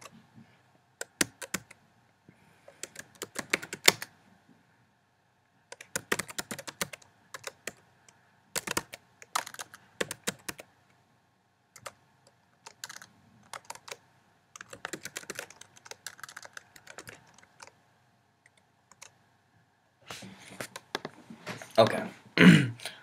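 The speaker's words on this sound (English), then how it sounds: "you're gonna type in" Typing on a computer keyboard in bursts of rapid clicks separated by pauses, close by, with a voice speaking over parts of it.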